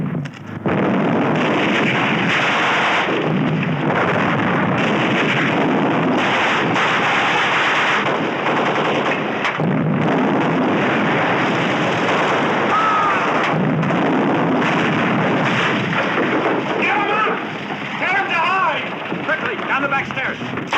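Gunfire from a 1978 Holocaust drama scene erupts after a shouted order to fire, a sustained, loud, dense barrage of shots and blasts filling the whole stretch, with voices mixed in throughout.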